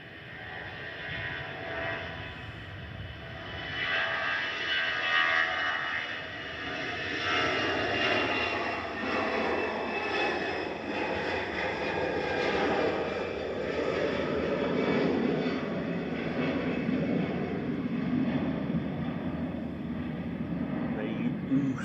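A passenger jet makes its takeoff roll at Manchester Airport, its engine roar building and holding as a broad, steady rumble at a distance, with a person talking over it throughout.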